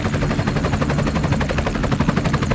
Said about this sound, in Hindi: हे से हेलीकॉप्टर शोर करता हेलीकॉप्टर